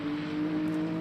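Hypercar engine in the racing game Le Mans Ultimate, a steady droning hum held for a second at moderate loudness with no voices over it.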